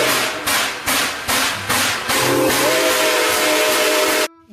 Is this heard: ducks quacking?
no